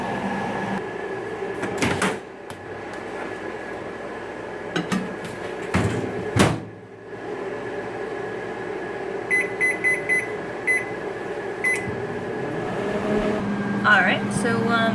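Microwave oven heating cauliflower with water in a bowl: a steady motor hum with a constant tonal drone, broken by a few clicks and knocks, ending in short beeps, with a person talking over it.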